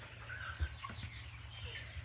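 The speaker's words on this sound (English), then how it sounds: "there's a Rhode Island red pullet that's nestled down there beside that rooster" Rhode Island Red and Cornish Cross chickens, about 41 days old, cluck softly nearby in short scattered calls over a low steady hum.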